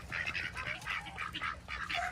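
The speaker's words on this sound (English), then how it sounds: "we are going to let all the chickens out and the ducks" Ducks quack repeatedly in a lively, overlapping chorus, close by and fairly loud, with no talking.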